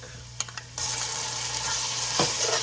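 Chopped ginger and garlic tipped into hot frying oil: a few quiet clicks, then a sudden loud sizzle that bursts in and holds steady close by, with no one talking.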